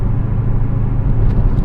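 Supercharged 1000 hp Dodge Hellcat engine idling on E85 after a cold start, a loud steady low rumble that holds even throughout with no revving.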